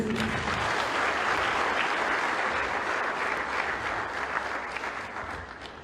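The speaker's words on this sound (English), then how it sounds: "Another round of applause, please." Loud, continuous applause from a lecture audience, sustained hand-clapping for the whole stretch and tapering slightly toward the end.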